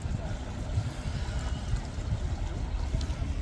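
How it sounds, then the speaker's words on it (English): A large motor boat, the Broad Ambition, on the Norfolk Broads produces a low, continuous engine rumble with water and wind noise, heard close by and fairly faint, with no speech. "this is Broad Ambition, a really big boat."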